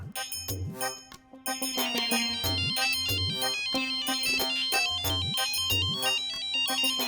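A loud electronic ringtone melody plays continuously, repeating a bright, chiming musical phrase with a steady bass pulse.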